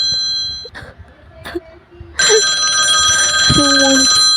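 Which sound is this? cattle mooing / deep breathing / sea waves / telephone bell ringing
telephone bell ringing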